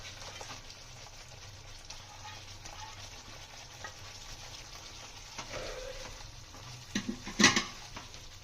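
Prawn roast frying in oil and being stirred in a pan, a soft steady sizzle with light scraping, ending in a few sharper clinks of a spoon against the pan.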